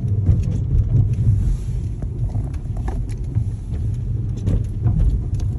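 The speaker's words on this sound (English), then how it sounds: "the car is pushing up speed now" A car rolls along a busy road with failed brakes, shifted into neutral as it picks up speed; a steady, loud low rumble of tyres and road noise fills the whole stretch with no speech.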